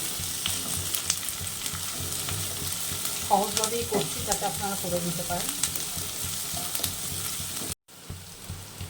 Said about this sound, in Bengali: পেঁয়াজটাও হালকা ভাজা হবে